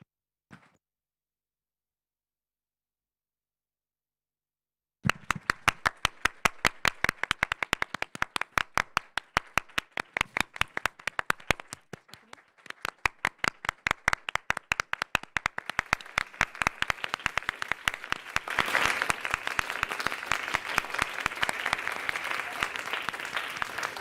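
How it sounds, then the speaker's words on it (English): An audience at a closing ceremony claps steadily and loudly for about twenty seconds after a brief silence, the applause swelling and thinning in rhythmic waves, with no one speaking. "Please stand up and welcome them with a big round of applause."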